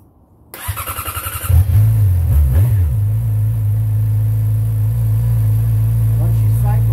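A Yamaha R6 motorcycle engine starts up with a quick starter whir, then catches and settles into a steady, loud idle close by, running continuously to the end.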